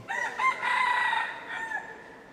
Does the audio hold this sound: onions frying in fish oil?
no